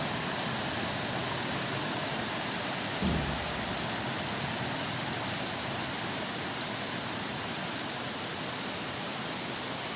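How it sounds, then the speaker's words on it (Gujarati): Heavy rain pours down in a dense, unbroken roar that stays even throughout. "ધોધમાર વરસાદ પડી ગયો છે"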